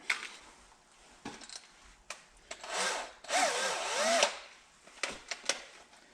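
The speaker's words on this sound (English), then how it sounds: "We're gonna put screws." Cordless power drill driving screws while installing a pellet stove, several short whirring bursts with a rising and falling pitch and pauses between them, fairly faint and close, with no talk.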